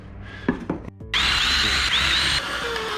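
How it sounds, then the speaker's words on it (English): A late father's power drill, used on a wooden pallet project, starts after a few short knocks and then runs steadily and loudly for about two seconds with a high whining tone, easing slightly near the end. "This is my dad's drill."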